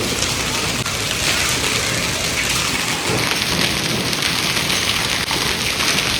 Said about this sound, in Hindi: मोटे मोटे ओले आने शुरू हो गए हैं